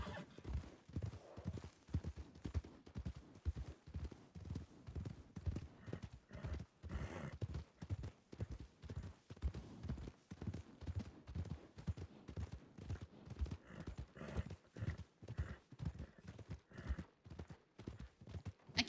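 Horse hooves clip-clopping in the WildRP western video game, a brisk steady rhythm of hoofbeats repeating throughout, joined by a whinny partway through.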